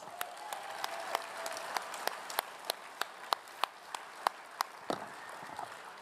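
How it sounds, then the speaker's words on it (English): Audience at a Rodeo Hall of Fame ceremony clapping in a steady, evenly spaced rhythm, each sharp clap distinct over a soft crowd murmur, heard at moderate distance and fairly quiet. "One more time, a round of applause."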